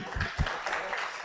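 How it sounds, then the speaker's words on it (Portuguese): A short burst of audience applause fills the room at a lecture commemorating Eduardo Mondlane, a dense wash of clapping with a couple of louder low thumps early on. "A salva de palmas é para si, podia levantar-se para... e agradecer as palmas."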